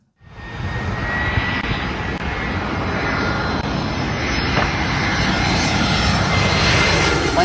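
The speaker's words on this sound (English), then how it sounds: "Plane came in, crashed into the birds." An airplane comes in to land and strikes a flock of birds, its engine roaring loud and steady after a sudden start, holding a continuous broadband drone throughout with no voices.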